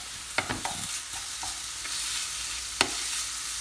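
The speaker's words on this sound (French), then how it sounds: "Voilà, nos oignons sont en train de se dorer." Onions frying in a pan, a soft continuous sizzle close by with a few sharp knocks and scrapes of a utensil stirring, no one talking.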